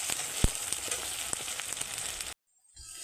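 Chicken masala sizzles steadily in oil while being sautéed, with stirring scrapes and an occasional sharp clack. It cuts to silence briefly, then the sizzle fades back in.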